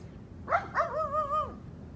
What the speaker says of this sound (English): That's natural sound too, a dog.